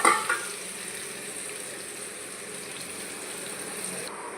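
Onions fry slowly in oil on low heat, giving a soft, steady sizzle with a couple of light clinks at the start, fairly quiet and without talk.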